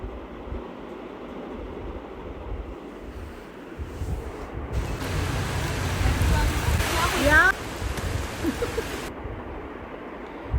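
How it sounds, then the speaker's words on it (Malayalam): Heavy monsoon rain and strong gusting wind around mango trees make a steady broadband roar that swells louder midway and stays dense throughout. "നല്ല കാറ്റാണ്, ഭയങ്കര കാറ്റാണ്. അത്യാവശ്യം നല്ല മഴയുണ്ട്."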